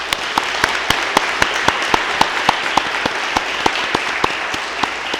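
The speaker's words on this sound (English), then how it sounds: "So I'm going to ask you to applaud for his peers" Audience at a respect initiative celebration applauding a student's squadron peers, a steady even burst of many hands clapping with sharp regular claps standing out, close and fairly loud, no talking.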